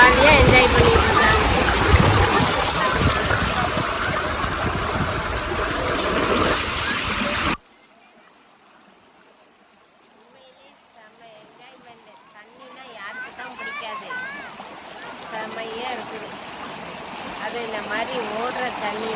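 Flowing water of the Tamirabarani river, a broad steady rush that is loud at first, then drops away sharply to a faint trickle with splashing and voices of bathers slowly rising again.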